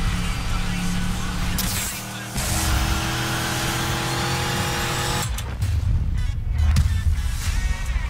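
Car engine in the racing game Need for Speed Payback, revving loudly and steadily with harmonic drone, shifting pitch mid-clip and ending with rougher, louder engine noise and a brief squeal-like texture.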